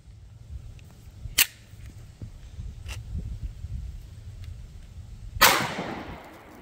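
5.7x28 green tip rounds fired at a concrete cinder block outdoors, two sharp distant cracks several seconds apart with faint ticks between, no talk.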